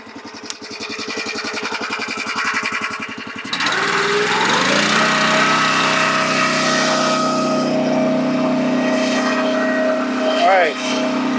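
A gas-engined hydraulic wood splitter, already warmed up, chugs in a rapid rhythmic putter, then revs up into a louder steady drone with a rising whine. The sound is close and continuous, and someone speaks briefly.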